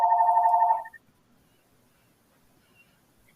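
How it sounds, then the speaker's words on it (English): A phone rings in the background of a home conversation, a steady trilling electronic ring for under a second at the start before cutting off into near silence. "As you can hear, my phone is ringing in the background."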